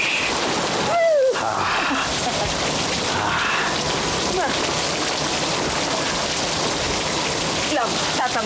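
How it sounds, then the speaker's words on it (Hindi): Heavy rain pours down in a dense, unbroken hiss of drops striking surfaces nearby, loud and steady from start to finish, with voices briefly heard over it. "वाह, बहुत जोरों की बारिश है"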